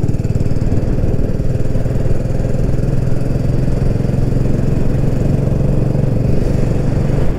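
A BSA Goldstar 650 retro big-single motorcycle ridden on roads in Mallorca, its engine giving a loud, steady, thrumming drone throughout without any speech.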